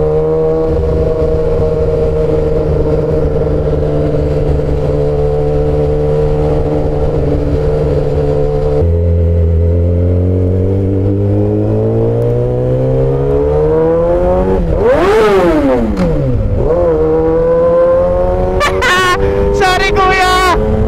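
A 1000cc motorcycle engine is ridden hard, its drone holding steady then dropping with a gear change and climbing again, with sharp rev sweeps and quick blips near the end under loud wind noise.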